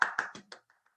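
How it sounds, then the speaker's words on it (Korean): A few scattered hand claps from a small audience at an Atomy business lecture, four quick claps fading into two faint ones within a second. "다시 한번 감사하다고 박수 보내드리겠습니다"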